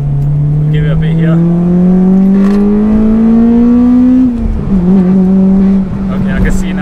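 Honda Civic Type R EP3 with a VTEC engine revving hard while driving, the engine note climbing steadily in pitch, then dropping sharply at a gear change before holding steady again, loud and close.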